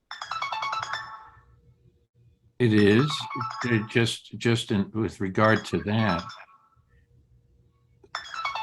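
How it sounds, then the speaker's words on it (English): A phone ringtone plays a bright, repeating electronic melody at the start and again at the end, with a person talking over the middle while the ringing fades under the speech. "someone's phone is ringing"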